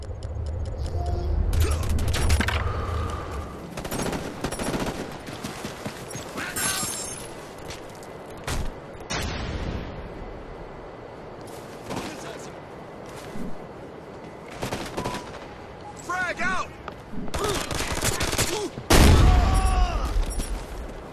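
Sentry gun in Ghost Recon: Future Soldier firing in scattered bursts and bangs across a busy battlefield at a pipeline, with booms and footsteps mixed in, moderately loud throughout.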